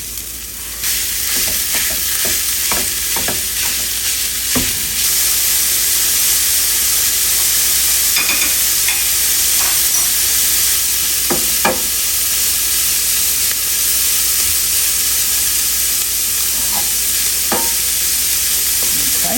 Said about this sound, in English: first we'll get going on browning the sausage